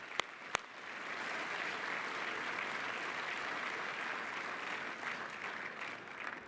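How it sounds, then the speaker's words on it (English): An audience at a grand opening ceremony for a pavilion claps for the construction team, a steady, even wash of applause from a gathered crowd lasting several seconds after two sharp claps at the start. "So please give them all a round of applause for a great job done"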